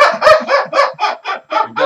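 A man imitates honking geese with his voice, a run of about eight quick, loud, nasal honks in steady rhythm, close up and with no other sound around them.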